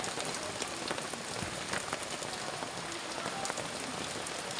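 Steady rain pours down on a quiet outdoor court, a dense, continuous patter on surfaces that stays loud and even throughout, with no voices.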